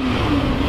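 A car engine drones steadily at close range, holding a loud, even mid-pitched tone while making a lap at an informal street gathering, with no talk over it.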